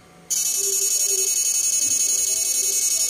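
An electric fish shocker machine switched into fresh water mode starts abruptly with a loud, steady high-pitched electronic buzz that pulses rapidly and continues unchanged, with no talk.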